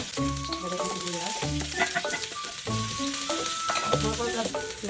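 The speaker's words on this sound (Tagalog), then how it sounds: "Pag mainit naman ang mantika, ilagay ang bawang. Lagay ang sibuyas." Garlic and onion sautéing in hot oil in a pan for arroz caldo with egg, a steady close sizzle with stirring scrapes over a tonal background, no talking.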